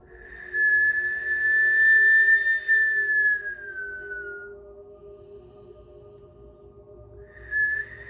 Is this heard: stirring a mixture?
no